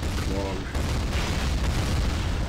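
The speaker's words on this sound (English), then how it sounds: "Explosions!" Heavy, continuous rumbling booms and blasts roar through the whole stretch, dense and loud, like a video game explosion sequence, from the Half-Life mod Poke646 Vendetta.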